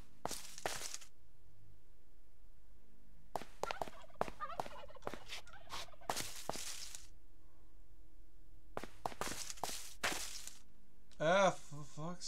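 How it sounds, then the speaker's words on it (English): Chicken sounds in a video game: several clusters of short clucks and squawks separated by quiet gaps, ending with a brief, higher-pitched warbling cry. "Hello, chicken."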